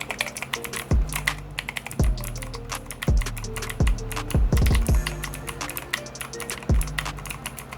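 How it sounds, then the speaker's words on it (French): Rapid clicky keystrokes on an inexpensive mechanical keyboard with blue switches, steady and fairly loud, with dense bursts of typing and a few heavier thumps recurring about once a second. "je vais vous faire écouter le bruit du clavier"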